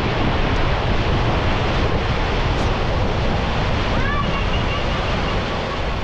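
Huai Sai Lueang waterfall in the rainy season roars as a loud, dense, unbroken wash of rushing water close by, with faint voices briefly audible beneath the torrent.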